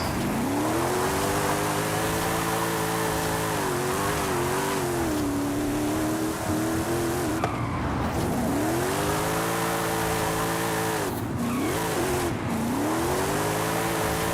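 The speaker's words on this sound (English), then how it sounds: "You can drift right through this." Car drifting through a roundabout in Forza Horizon 5, a steady loud engine drone with rising and falling revs as it slides, continuous and close with no pauses.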